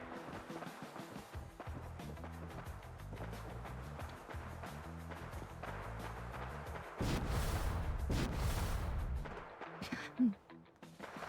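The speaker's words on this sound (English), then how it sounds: "we were going that way, but I hear gunshots." Gunfire in Fallout 4 rings out during gameplay: rhythmic footsteps give way to bursts of shots and heavier booming blasts, fairly loud, ending with a sharp crash.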